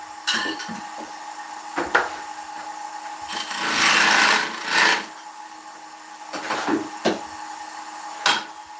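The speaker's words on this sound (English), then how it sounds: "Just using a skew to clean up the tenon." A skew chisel cleans up a large willow tenon on a wood lathe, giving a close, scraping cut with short bursts and a longer rushing shave over the motor's steady hum, with no talking.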